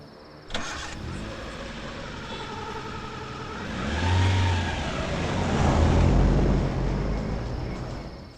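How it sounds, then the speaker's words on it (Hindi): A car engine starts with a sudden burst, settles into an idle, then revs and rumbles louder as the vehicle draws closer from behind, in a film scene; no talk. "सर कार की आवाज पीछे से आ रही है।"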